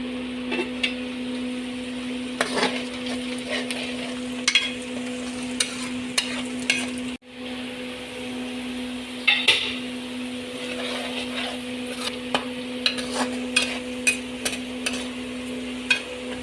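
Onions sizzle steadily in cooking oil in a kadhai while a utensil scrapes and stirs with occasional knocks, over a constant low electrical hum.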